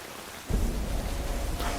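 Heavy rain suddenly starts, a dense, steady hiss and rumble that stays loud and continuous to the end, with no voices.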